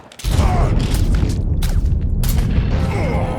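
Gunfire in Mafia 3, a dense boomy rumble of shots and impacts that sets in abruptly and carries on throughout, loud and close.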